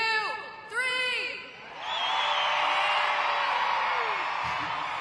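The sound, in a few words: women in monster truck arena crowd screaming loudly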